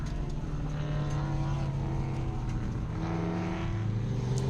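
A V8 Ford Mustang with a broken fifth gear, drifting in tandem on track in third gear: a sustained engine roar with pitch rising and falling as the revs change, loud and continuous with no talking.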